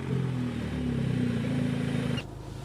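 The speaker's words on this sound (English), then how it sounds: "let me just start the engine quick" A Mk7.5 Volkswagen Golf R engine cranks and catches, then runs at a steady rumbling idle before cutting out abruptly near the end.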